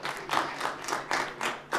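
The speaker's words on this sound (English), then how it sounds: "Can we have a big round of applause for him, please?" Audience applause for a presenter at an HR congress session, rhythmic clapping from a small crowd in steady waves, moderately close and fairly quiet, with no voices over it.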